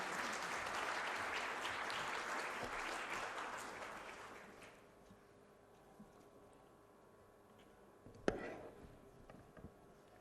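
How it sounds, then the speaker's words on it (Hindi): Loud applause for Prime Minister Narendra Modi at a foundation stone laying ceremony for an ESI super speciality hospital, with dense clapping from a large crowd that dies away after a few seconds into quiet room noise with a single sharp knock. "माननीय प्रधानमंत्री जी, हम आपको जोरदार तालियों के बीच संबोधन के लिए सादर आमंत्रित करते हैं।"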